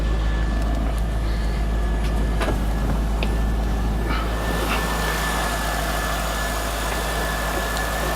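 A 2001 C5 Corvette with an LS1 engine and 55,901 miles, mated to a manual transmission, idles steadily and evenly, a close, continuous low rumble with no talking over it.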